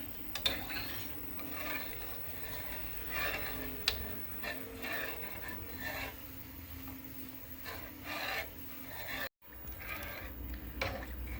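Soup stock with egg is stirred continuously in a pot as it comes to a boil, soft rhythmic scraping and light clicks of the spoon, close but fairly quiet.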